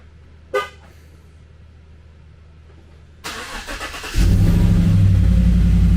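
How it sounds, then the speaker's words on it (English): A Chevy Silverado project truck cranks partway through and catches, settling into a loud, steady idle that runs to the end, preceded by a brief chirp and quiet background. "start the truck now."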